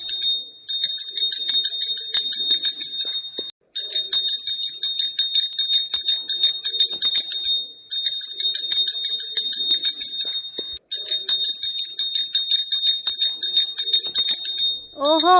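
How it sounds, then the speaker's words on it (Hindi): A small temple bell rings steadily inside a home during a devotional drama, a bright sustained metallic tone repeating nearly continuously with two brief gaps, loud and close. "ये हमारे घर में मंदिर की घंटी की आवाज कहाँ से आ रही है?"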